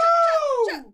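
A person screams loudly right into a close microphone: one harsh, strained cry lasting under a second, starting strong and sliding down in pitch as it fades.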